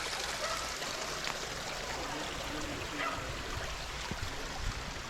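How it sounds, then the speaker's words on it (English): A creek runs steadily, a continuous broadband rush and trickle of flowing water with no voices, close by and even in level throughout. "the creek is running nicely"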